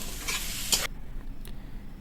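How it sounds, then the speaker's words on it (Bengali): Boiled potatoes being stirred and fried in a pan with salt and turmeric. A dense sizzle with scraping stir strokes fills the first second, then drops to a quieter, fainter fry. No voices. "এবার এর মধ্যে সেদ্ধ করা আলুগুলো দিয়ে নেড়ে চেড়ে নেব"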